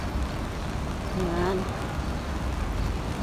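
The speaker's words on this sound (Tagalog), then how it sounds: "Pero konti lang naman yung ulan." Light rain falling outdoors in the morning, a continuous soft hiss of drops throughout, with a brief spoken word over it.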